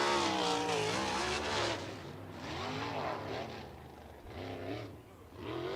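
A sprint car on a dirt oval during USAC National Sprints qualifying at Lincoln Park Speedway, its engine loud and near, rising and falling in pitch as it powers through the turns, with an announcer talking over it.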